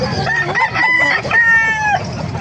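Talisain gamecocks crow and cluck loudly at a chicken market in Calumpit, Bulacan, with one rooster's long crow up close over other birds and busy market background.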